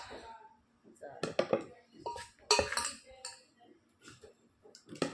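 Metal clinks and knocks from a cooking pot as chili masala is stirred in, a few sharp hits clustered amid softer scraping, with someone talking nearby.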